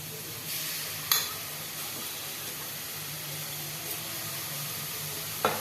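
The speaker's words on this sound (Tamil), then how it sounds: "அந்த கேரட்டை வந்து நம்ம அது வானலில் போட்டுக்கலாம்." Grated carrot fries in a pan with a steady soft sizzle and hiss, and two brief scraping clatters of stirring punctuate it.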